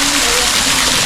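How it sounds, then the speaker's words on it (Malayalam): Water gushes and splashes steadily as a motor pump drains a pond for fish catching, a loud, unbroken rush lasting about a second. "മോട്ടറിൽ വെള്ളം വറ്റിക്കുന്നതാണ്."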